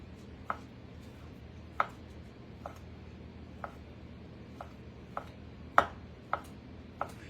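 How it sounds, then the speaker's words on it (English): A knife cuts turkey into small pieces on a board, giving sharp isolated chops spaced about a second apart over a low steady background hum, fairly quiet and close. "I'm just going to take a small piece of this turkey, and I'm going to just cut it up in little pieces."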